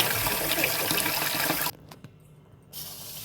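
Water runs and splashes steadily as soaked lentils are rinsed, then cuts out abruptly to near quiet before the flow starts again.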